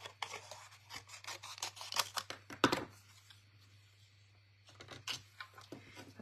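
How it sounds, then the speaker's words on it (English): Cardstock being trimmed for a handmade Stampin' Up! card, heard up close as a quick run of crisp rasping cuts and snips, then a pause and a few more cuts. "Cut away a bit of this cardstock."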